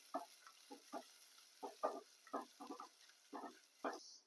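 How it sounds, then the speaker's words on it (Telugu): Tomato-onion paste frying in oil, heard as a series of soft, separate stirring scrapes and splutters about every half second over a faint hiss, quiet and close. "మనం గ్రైండ్ చేసి పెట్టుకున్న టమాటో ఆనియన్ పేస్ట్ యాడ్ చేస్తున్నాను. ఇది కొంచెం ఆయిల్ వదిలేంత వరకు ఫ్రై చేసుకుందామండి."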